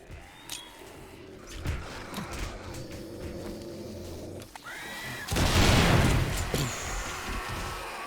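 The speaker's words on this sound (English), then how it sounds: "let's go ahead and have some fun with grenades" Video game grenade explosions in 7 Days to Die, with a few thuds and sharp crashes early on, then a big, loud blast around the middle that rumbles and decays over a couple of seconds.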